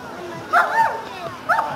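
A combative dog in a vigilance training exercise gives two short, sharp barks about a second apart, close and distinct.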